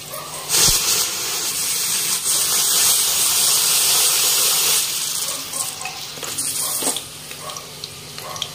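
Cumin seeds and green chillies fry in oil for a restaurant-style jeera rice and dal tadka, giving a steady close hissing sizzle that is loudest early on and then eases into a softer crackle.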